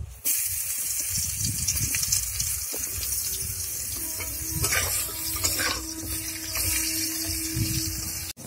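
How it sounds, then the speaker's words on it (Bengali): Slices of pointed gourd (potol) fry in hot oil for a potato-and-tomato chop recipe, giving a steady, close sizzle broken by occasional spatula stirs and scrapes, with no talking. "পটল এইভাবে ভেজে নেব।"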